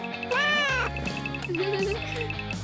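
A human voice imitates a cat with a drawn-out meow followed by a second, softer mewing call, close and clear over a steady background tone.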